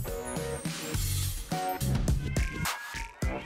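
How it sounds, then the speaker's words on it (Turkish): Several cats meow in quick succession, short tonal cries overlapping one another at close range. "Sevgili kedilerimle tanış."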